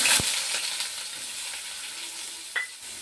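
Chopped onions hit hot tempering oil in a pan and fry with a steady close sizzle, with a sharp burst as they go in and another brief flare near the end.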